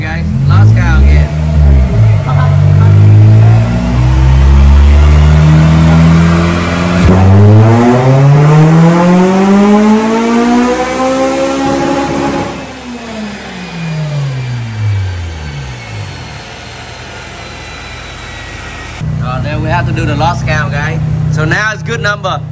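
A Honda Civic EG with a K20 engine revs on a dyno, rising and falling through long sweeps while it misfires roughly. The run is loud and close, with voices talking over parts of it.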